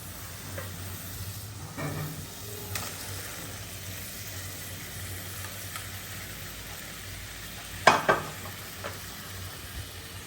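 Fried radish pieces go into a cooked spice masala and sizzle steadily, with a few sharp scraping clacks of stirring against the pan. No voices are heard.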